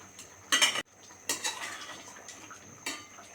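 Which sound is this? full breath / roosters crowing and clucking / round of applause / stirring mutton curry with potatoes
stirring mutton curry with potatoes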